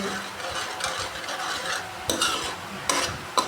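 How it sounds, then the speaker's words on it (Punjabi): A tadka of tempering spices crackles in a pan before going into a bottle gourd curry made with milk, a close, even sizzle with a few metallic clinks and scrapes of a spoon, no talking. "ਤੜਕਾ ਆਪਾਂ ਰੱਖ ਦਿੱਤਾ ਹੈ ਤੇ ਤੜਕਾ ਦੇਖੋ ਆਪਣਾ ਭੁੱਜਦਾ ਪਿਆ ਹੈ"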